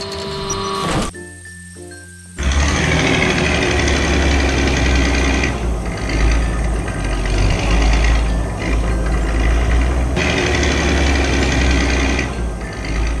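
A yellow excavator engine runs at a steady loud drone with clanking, starting after a brief high ringing tone and a short quieter pause, then continuing without voices.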